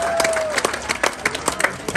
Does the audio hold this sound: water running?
no